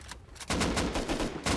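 Gunfire in the video game Rust, a quick burst of rapid shots following a short lull, loud and close.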